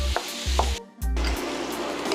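Onion and garlic sizzle in a coated pan, with a wooden spoon scraping and breaking them up. Three low scraping strokes sit over a steady hiss, with a brief lull in the middle.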